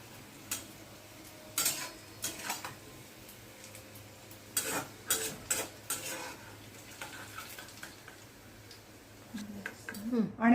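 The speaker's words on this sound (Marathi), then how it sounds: "मस्त कांद्याचा रंग बदलायला लागलाय, अगदी झालाय तळून ऑलमोस्ट" Onions fry in oil in a pan, a soft sizzle running underneath while a spoon scrapes and clinks against the pan in short bursts.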